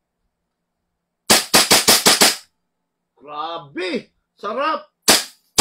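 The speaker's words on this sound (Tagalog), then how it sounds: "Okay, firing tayo." A gun fires with a loaded magazine, first a rapid burst of six sharp cracking shots, then two more shots at the end, close and loud, with someone speaking briefly in between.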